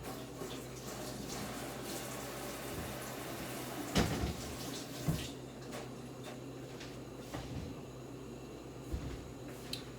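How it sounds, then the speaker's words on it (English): Tap water runs steadily over fresh thyme and a hot pepper being rinsed by hand at a kitchen sink, with soft splashes and a few louder gushes and clatters near the middle and end. "So I'm gonna just wash this off and wash off my pepper"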